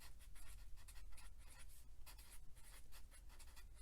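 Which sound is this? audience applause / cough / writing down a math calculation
writing down a math calculation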